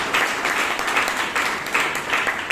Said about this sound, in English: Can we have a round of applause for Toastmasters?